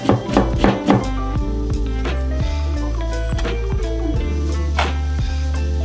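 A knife chops round zucchini on a cutting board in a temple-food kitchen: a rapid cluster of crisp knocks at first, then steadier, evenly spaced thunks, close and loud.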